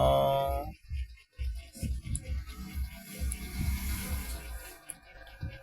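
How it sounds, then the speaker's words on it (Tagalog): River water at a local swimming spot flows close by with low gurgling churn and scattered splashes, fairly loud and steady with no talk. "Ganito ang ilog namin."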